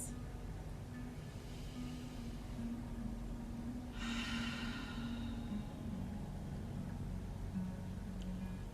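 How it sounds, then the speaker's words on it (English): Deep, slow breaths during a Pilates session, two soft airy inhale-exhale swells, the second stronger, over a faint steady background hum. "we'll take 2 more good deep slow breaths."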